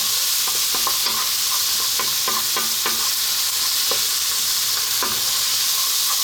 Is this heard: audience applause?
no